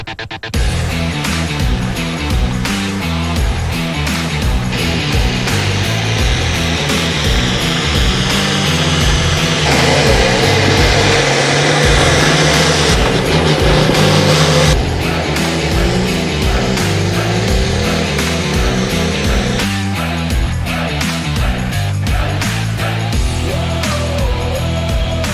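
Farm tractor engines at an Outlaw Farm Tractor division truck and tractor pull at Listie Grove, a loud continuous engine roar with strong low rumble that swells and holds through most of the stretch, with crowd and event noise mixed in.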